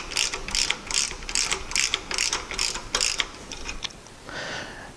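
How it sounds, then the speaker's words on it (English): A wrench ratchets a nut on a longarm quilting frame pole end assembly, giving a fast run of loud, close, evenly spaced clicks that slow and stop, followed by a brief softer scrape. "When that's done, put your wrench on it."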